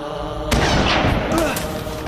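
A single loud gunshot cracks up close, a sharp blast followed by a rumbling, fading decay that fills the rest of the moment.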